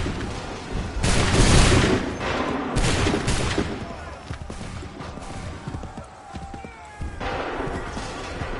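Musket volleys ring out across a battlefield in Assassin's Creed III, loud bursts of massed gunfire crackling together, then scattered shots and booms with horse hooves and battle din underneath.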